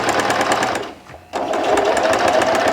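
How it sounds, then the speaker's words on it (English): A Bernette b05 Academy sewing machine stitches at a slow setting, a close, loud, rapid mechanical chatter that briefly drops away for a moment before resuming. "So we're going to sew down through here, just a slow setting"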